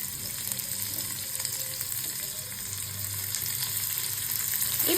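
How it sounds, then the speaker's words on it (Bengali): Chopped garlic, ginger and onion fry in white oil, a continuous bright sizzle with occasional stirring scrapes, growing louder toward the end. "প্রথমে সাদা তেল দিয়ে দিচ্ছি রসুন কুচো, আদা কুচো, তার ভালো করে একটু ভেজে নেবো। পরে দিয়ে দিচ্ছি পেঁয়াজ কুচো"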